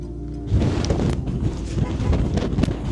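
Strong Alaskan wind storm battering the microphone near a parked small airplane, a loud continuous roaring rumble with gusting surges throughout.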